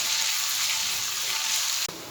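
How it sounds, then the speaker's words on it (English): Ginger garlic paste sautéing in hot oil gives a steady, bright sizzle close by. A brief clatter near the end briefly breaks the frying hiss. "To the same oil we will add 1 tablespoon ginger garlic. We will saute it for 1 to 2 minutes."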